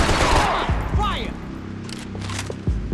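Gunfire in Max Payne 3 crackles in rapid bursts of nearby shots, with a whizzing ricochet and scattered single cracks, a voice shouting over part of it.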